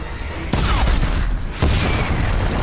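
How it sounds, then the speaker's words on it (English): Explosions at a refinery in a Star Wars: The Bad Batch episode come as two heavy booms that give way to a sustained rumbling roar, loud and close, with whooshing effects layered over it. "Registering multiple explosions near the refinery."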